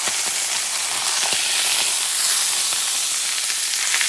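Loud, steady sizzle and hiss of a bison steak searing in a hot pan just after being flipped, with occasional pops and spits over a continuous frying roar.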